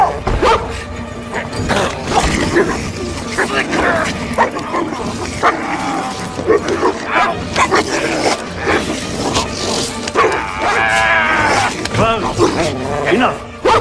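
In an action film scene, a dog barks and yips repeatedly, close and loud, mixed in with tense voices that talk over much of the scene.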